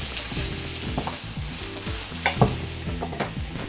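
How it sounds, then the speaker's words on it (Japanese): Mushrooms stir-fried in a pan for a mushroom pasta, with a continuous close sizzle and repeated scraping strokes of a utensil stirring in an even rhythm, with no talking. "キノコをしっかりと炒めてあげて"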